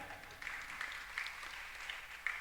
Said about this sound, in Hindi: ताली बजाने में ऐसा लगता है जैसे ढोंग कर रहे हो। या तो ताली बिल्कुल नहीं बजाओ, और बजाना है तो ढंग से बजाओ